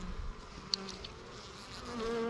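Honey bees buzz around an opened hive during an inspection in an out yard, making a dense, steady hum of many close wings with a few louder fly-bys passing near.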